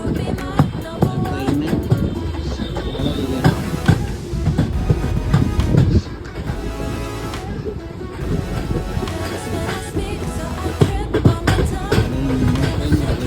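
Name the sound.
train running slowly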